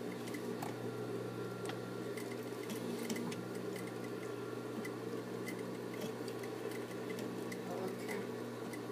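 Steady mechanical hum of a sewing machine stitching, a continuous droning whir with light ticking, running evenly throughout at moderate distance.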